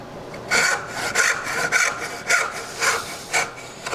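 A hand saw cuts wood along a marked line for dovetail joinery, producing about seven rhythmic rasping push strokes, close and even, with no talking.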